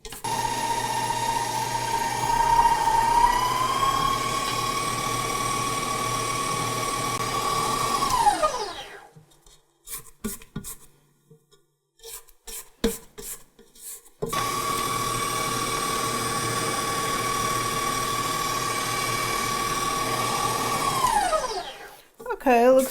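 A KitchenAid Professional HD bowl-lift stand mixer with a 5 quart bowl creams a mixture, its motor whirring loudly, then stopping for a stretch of scraping and clatter before running again and winding down.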